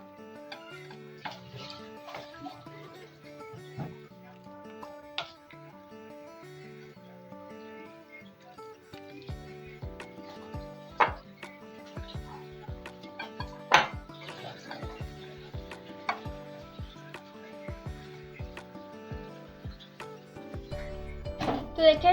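A spoon clinks and scrapes against a bowl while pakora batter with coriander and chili paste is stirred, with irregular light taps and clatters over soft tonal background music.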